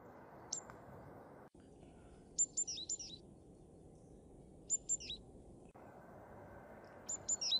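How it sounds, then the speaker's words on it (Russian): Small birds chirp in short bursts of a few high notes, repeated several times at moderate distance over a steady outdoor hush on a sunny spring day of thaw at a country dacha; no one speaks. "Так птички поют."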